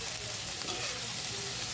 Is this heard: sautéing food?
yes